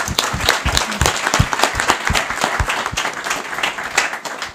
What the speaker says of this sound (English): So I think we can give ourselves a big applaud for this today